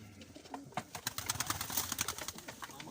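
Pigeons coo close by, soft repeated throaty calls over a busy background of rustling and clicks.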